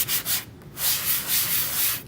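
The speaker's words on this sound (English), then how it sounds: "And I'm gonna do some sanding at the edges." Sandpaper rubs rhythmically back and forth on wood edges, a close, raspy scratching in repeated strokes with short pauses between.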